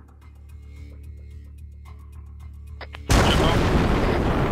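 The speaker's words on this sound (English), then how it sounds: "It's artillery incoming, incoming, incoming. It's artillery." In a special forces video game, artillery rounds land with a sudden loud, broad roar that cuts in after a quiet stretch of ticking ambience and keeps rumbling to the end.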